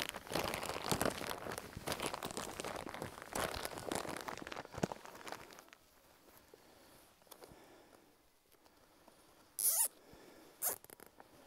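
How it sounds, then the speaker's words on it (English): Plastic bags of uprooted Parthenium weed rustle and crinkle, then quiet. Two short, sharp ratcheting zips follow as a zip tie is pulled tight around the bag, close and distinct. "Okay, Stuart, will you please get me a zip tie?"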